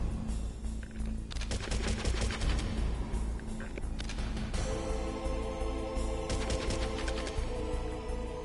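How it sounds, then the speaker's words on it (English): Gunfire in Metal Gear Solid, loud rapid bursts of blind firing that come in repeated volleys with brief gaps, dense and close over game sound. "I'm just blind firing"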